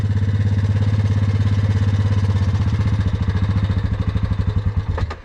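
A quad ATV engine idles with a fast, steady chugging beat, then its throttle is blipped near the end, the pulses loosening and turning rougher as the engine revs briefly.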